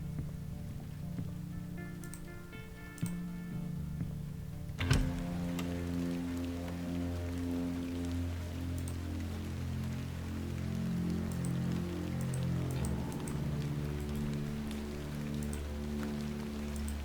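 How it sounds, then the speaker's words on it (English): Steady rain falling outside, a soft continuous patter heard from indoors in a moody point-and-click folk horror game, with a sharp knock or thud partway through and low ambient music tones underneath. "I can see it's still raining out there."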